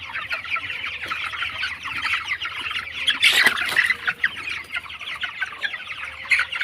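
Many broiler chickens fill a poultry shed with dense, continuous clucking and chirping. A louder squawk rises briefly in the middle.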